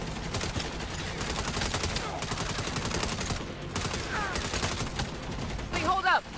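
Sustained rapid gunfire from shooting in the video game Saints Row, dense and continuous for several seconds with bursts overlapping, ending with a few sharp whistling and ricochet-like effects near the close.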